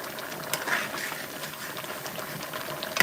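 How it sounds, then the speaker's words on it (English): Boiling water being poured into a stew pot of turkey necks and peas with spinach, a steady close hiss of liquid and bubbling that runs throughout at moderate level, with a few brief clatters near the start and the end. "And this is boiling water I'm adding to the pot."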